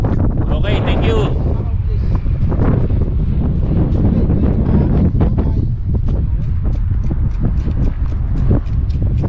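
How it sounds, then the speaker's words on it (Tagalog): Strong wind buffets a microphone while cycling along a bike lane in Doha, Qatar, a loud constant roaring rumble throughout with occasional gusty thumps and faint voices underneath. "naririnig niyo yung hampas ng hangin, grabe"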